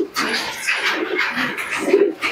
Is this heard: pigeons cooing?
yes